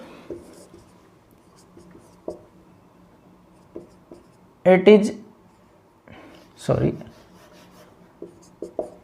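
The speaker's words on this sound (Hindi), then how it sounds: "यहां पे मैं लिख देता हूं इनके बारे में" A marker or chalk scratches across a board in short strokes during a chemistry lecture on supramolecular compounds, with someone talking over the writing.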